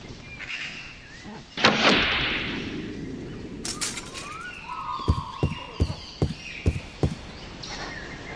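A bow looses a hooked rope arrow in The Longest Journey: one sharp, fairly loud burst of release and rushing air with a trailing hiss, then a run of evenly spaced light knocks and clatters.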